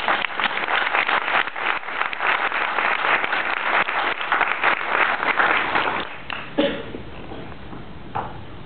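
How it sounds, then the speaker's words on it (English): A room of professional women applauds, a dense round of clapping that thins out and trails into a few scattered claps near the end. "give yourselves a round of applause"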